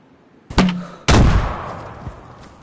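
Gunfire strikes a wall in DayZ: a sharp shot, then a louder heavy impact that rings and decays for over a second, with a faint later thud; no one talks.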